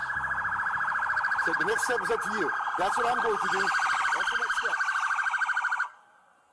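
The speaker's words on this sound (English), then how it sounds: "You can hear the lights and siren in the background." A police car siren wails loudly and rapidly in a steady warbling pattern while someone talks over it, then the siren cuts off.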